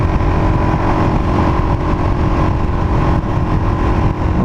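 2019 Suzuki DRZ400 SM single-cylinder motorcycle engine while riding in fourth gear: a steady, loud, close drone with a constant buzzing tone and wind rush, no change in pitch.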